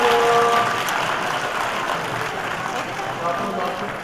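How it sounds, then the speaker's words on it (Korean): A large audience claps steadily for a children's performance as a school stage show opens, a dense wash of applause that starts loud and eases slightly over a few seconds. "큰 박수 부탁드립니다."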